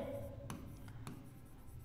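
A pen writes out a trigonometry solution by hand, giving faint scratchy strokes with a couple of sharp taps, soft against a low steady background hum.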